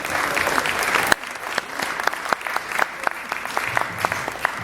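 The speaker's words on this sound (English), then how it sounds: "Let's give our elders a round of applause." A round of applause for the elders at a community brunch honoring guests, with many hands clapping steadily; a sharp burst at the start gives way to continuous, moderately loud clapping.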